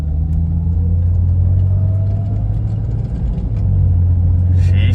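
A Jeep with about 160,000 miles out on a test drive gives a loud, close engine drone and hum that drops briefly partway through as it shifts gears, then picks up again with a rough rumble.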